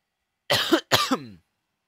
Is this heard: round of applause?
no